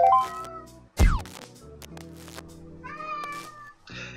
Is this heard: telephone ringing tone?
no